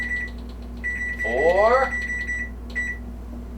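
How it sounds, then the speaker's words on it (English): An oven timer beeps in a series of short electronic tones as it is set, with a brief sliding tone in the middle, heard under someone talking in a kitchen. "we are going to set the timer"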